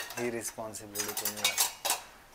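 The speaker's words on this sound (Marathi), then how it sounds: "तर आपण घेऊयात भांडी लावायची रिस्पॉन्सिबिलिटी" Dishes are being put away in a home kitchen, with a few clinks of metal utensils and pots set down close by, while someone talks in short phrases over the clatter.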